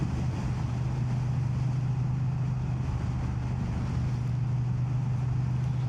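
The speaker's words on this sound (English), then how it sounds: "It's nice to feel the roar of the engine underneath me and the sound of the thumping twin as well." A Triumph Bonneville T100 twin engine roars steadily on a winter ride through Dovedale, a constant loud drone with a low thrum and no speech.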